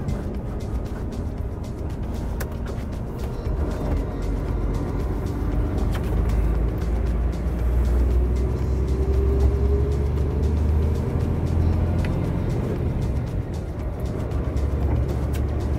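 Heavy goods vehicle with a manual gearbox driving on a road, heard from inside the cab as a steady, loud low engine rumble and road noise throughout, with slight swells in level and no talking.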